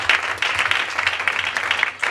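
A church congregation applauding to acclaim the Lord during a French-language service, a dense, steady burst of clapping from many hands that carries on throughout.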